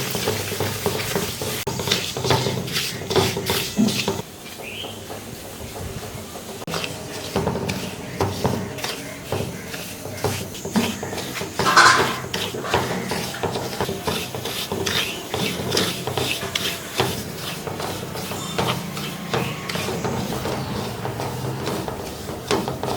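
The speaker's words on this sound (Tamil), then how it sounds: "அந்த ரவையை இந்த ஆயில் அந்த நெய் இருக்கு அதில் போட்டு நல்லா வறுத்துக்கலாம்." Steady scraping and stirring of semolina roasting in oil and ghee in a pan, with a soft sizzle underneath, continuous rubbing strokes that go on without pause.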